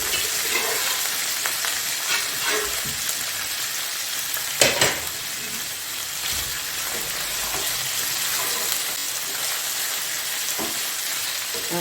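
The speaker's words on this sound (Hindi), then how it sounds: "इसको भी इसमें थोड़ी देर के लिए फ्राई करूंगी" Chicken pota, the gizzards and innards of a chicken, frying in a pan with a soft continuous sizzle, punctuated by a louder burst of spattering and a few scraping stirs, fairly close and quiet overall.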